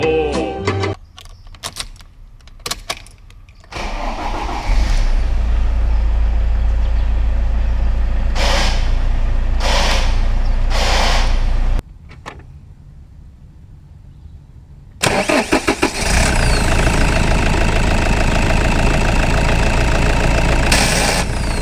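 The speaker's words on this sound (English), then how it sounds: "try and find out whether the starter can be engaged if the engine has been started" Car starter motor engaged while the engine is already idling, with clicks and a harsh grinding whine cutting in over the steady engine rumble, several short bursts followed by a long loud grind near the end.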